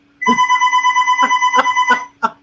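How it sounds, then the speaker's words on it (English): A phone rings in a steady electronic ringtone pattern, with repeated tonal bursts close and loud, ending with one short final chirp. "My phone is ringing."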